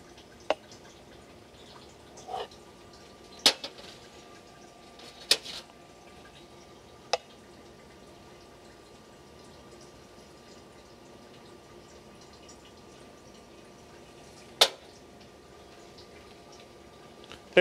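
Espresso shots drip from a Slayer Steam X espresso machine in a few faint, sparse ticks and drops over a low steady background hiss, with no voices.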